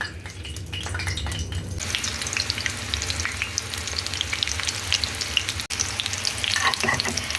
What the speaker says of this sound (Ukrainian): Обжарюємо речоники з обох сторін до рум'яності.